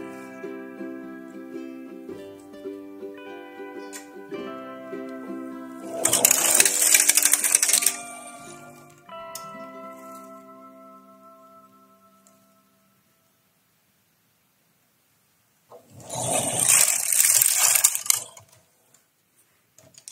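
Domestic knitting machine carriage run across the needle bed knitting a row for baby booties, giving two loud bursts of rattling, whirring mechanical clatter separated by quieter pauses, with soft tonal ringing in between.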